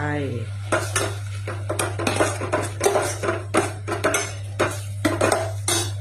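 Pork is stirred into a pot of Thai kaeng curry with a metal utensil, scraping and clinking against the pot in irregular strokes, close and clear over a steady low hum.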